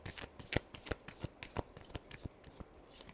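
Tarot cards being shuffled by hand, a quick run of crisp riffling snaps and soft slaps at close range, heard alone without any talking.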